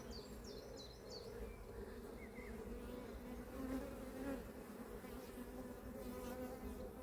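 Honey bees drone in a dense, continuous hum close by inside a hive during inspection, a few brief higher buzzes flitting past over the steady swarm.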